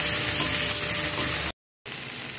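Garlic and ground tomato frying together in a pan for a spicy sea mourola fish curry, a dense close sizzle with light stirring, broken by a short silent gap before resuming.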